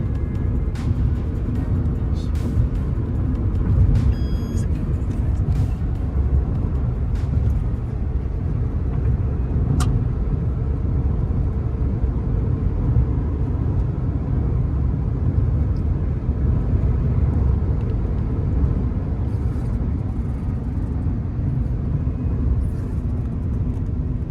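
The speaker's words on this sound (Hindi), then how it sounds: "ये है धोलेरा एयरपोर्ट की रनवे स्ट्रिप, जिसके ऊपर अभी हम गाड़ी लेके चल रहे हैं।" Steady cabin rumble of a car driving on the Dholera airport runway strip in Gujarat, loud low road and engine noise holding for over twenty seconds, with scattered faint clicks.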